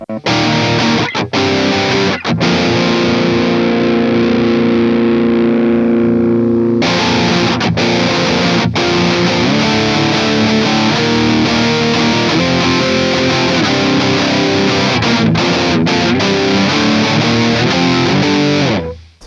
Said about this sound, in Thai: หรือจะใช้ตัว distortion นะตัวนี้